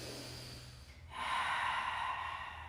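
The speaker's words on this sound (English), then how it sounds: "Take 2 more breaths" Deep, steady breaths during a family yoga session, a quieter exhale giving way to a long, full breathy rush that holds strong to the end, close and alone without talk.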